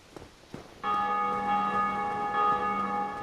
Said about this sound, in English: And someone else has just rung the bell.